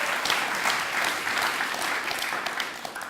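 An audience at a live stage event claps and cheers throughout, a dense, steady wash of applause heard fairly close.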